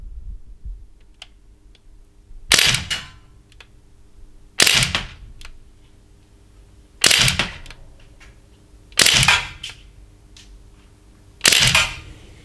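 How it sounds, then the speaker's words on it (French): Five single shots from an Umarex Legends M3 Grease Gun 4.5 mm BB airgun fired at a target 9 metres away, each a sharp snapping pop with a short tail, spaced about two seconds apart against a quiet indoor background. "On est parti pour le test traditionnel du tir de précision à 9 mètres."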